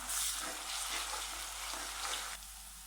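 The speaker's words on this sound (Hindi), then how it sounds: "अब हम इसमें अदरक लहसुन का पेस्ट डाल देते हैं, इसको भी लाइट ब्राउन करते हैं।" Ginger garlic paste fries in a pan with lightly browned onions for a kasuri keema karahi, giving a steady, close, loud sizzle that crackles evenly throughout and drops slightly near the end.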